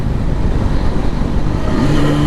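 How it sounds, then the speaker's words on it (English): A 2020 Yamaha R6 sport bike on the road, a loud, steady engine drone with wind rush, and the pitch climbing at the end as it pulls through the gears. "Oh, downshift, upshift. My gosh, this bike is fast."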